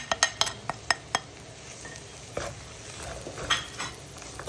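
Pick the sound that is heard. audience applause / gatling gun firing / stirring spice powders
stirring spice powders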